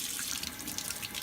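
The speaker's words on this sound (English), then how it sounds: "you can fill it up with some water, dump it in here, and just keep doing that until the jar" Water pours from a jar while kefir grains are rinsed, a brief, steady splashing and gurgling rush, close and alone.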